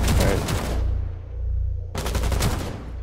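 Shotgun fire in the video game Rainbow Six Siege, two loud, sharp bursts separated by a brief lull, close and dominant.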